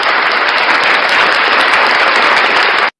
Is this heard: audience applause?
yes